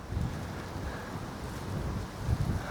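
Stark wind gusting across a disc golf course in Clyde, North Carolina, a low rumbling buffet of wind noise on the microphone, fairly quiet, with no voices.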